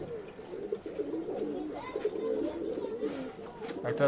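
Flyer pigeons at a bird sale in Bangalore coo in soft, repeated rolling calls, several birds overlapping close by with faint shuffling movement in between.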